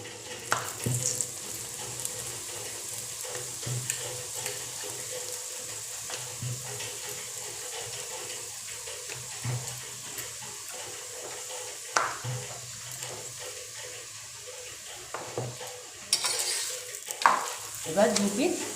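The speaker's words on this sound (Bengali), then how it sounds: "তো পরোটাটা আমি ভেজে নিই" A carrot paratha fries in oil in a pan, sending up a continuous close sizzle with occasional sharp clatters and scraping knocks from utensils, growing busier near the end.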